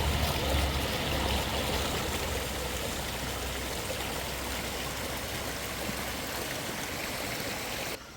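Clear creek water runs steadily over rocks at Anderson Creek near Anderson Bridge, a continuous close babbling rush at even loudness with no voices, cutting off abruptly at the end.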